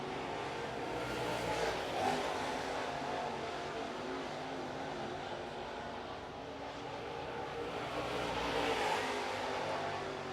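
Late model race cars qualifying at Cherokee Speedway, a steady loud engine roar from the track with a slight easing of throttle in turn 1, continuous throughout with no voices.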